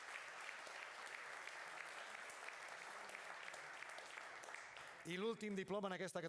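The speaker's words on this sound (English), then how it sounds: "a big round of applause for them as well" Audience applause at a European heritage architecture award ceremony, steady clapping filling about five seconds before a speaker's voice takes over at the end.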